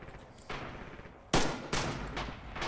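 Gunfire in the WWII shooter Red Orchestra 2 during a factory attack: rattling bursts begin, then a loud close shot and further heavy bursts follow in quick succession against a background of distant battle.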